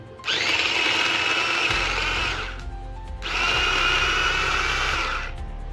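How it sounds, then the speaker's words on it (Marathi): An electric chopper mincing tomatoes whirs loudly in two bursts, a high motor buzz with a short pause between runs. "तर मी आता ह्याला बारीक करून घेतो"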